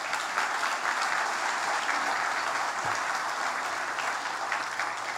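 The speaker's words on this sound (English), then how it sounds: "A big round of applause for everyone" Sustained applause from a conference audience fills the room at a steady, dense level, with many hands clapping together and no voices.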